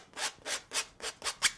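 A palette knife scrapes paint across a canvas while a lakeview mountain landscape is being painted: six steady, rhythmic strokes at roughly even intervals, close and fairly loud, with no voices.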